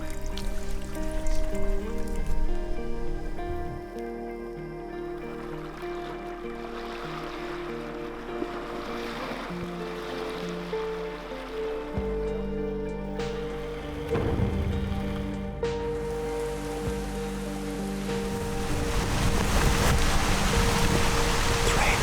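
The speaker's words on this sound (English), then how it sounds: "Totally hammering right now. It's supposed to rain until midnight," Heavy rain pours down outdoors in suburban Massachusetts woods, a loud, steady hammering wash that keeps going without a break, with a brighter patter of drops on nearby surfaces.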